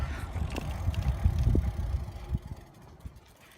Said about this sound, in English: I tried to record myself biking down West Dakota Avenue